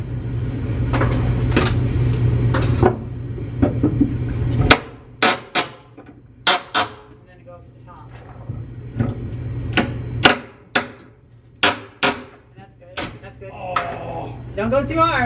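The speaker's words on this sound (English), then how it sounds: "Just get your crowbar underneath here and pull it out a bit," Nailed floorboards pried up with a crowbar in the basement of a 1925 house, giving a loose series of sharp cracks, knocks and creaks at close range, with people talking throughout.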